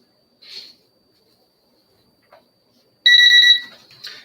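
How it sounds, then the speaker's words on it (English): An auction countdown timer alarm goes off loudly as a steady two-tone electronic beeping lasting about half a second, then tails off into softer chirps; a brief faint blip comes earlier in otherwise quiet surroundings. "The timer has gone off here on our end"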